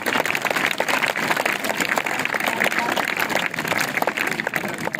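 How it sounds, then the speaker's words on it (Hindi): Schoolchildren at a school magic show clap in a dense, continuous crowd applause, with a voice speaking over it. "तालियां बेटा जोर से होनी चाहिए।"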